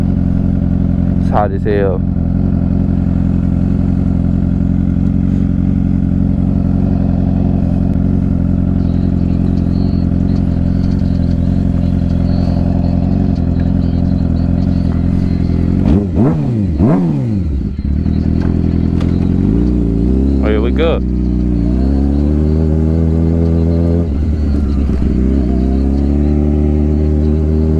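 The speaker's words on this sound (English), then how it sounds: "Damn, that's a lot of traffic." Passing road traffic with cars and motorcycles, a steady close engine rumble with a few revving passes, under a man's speech.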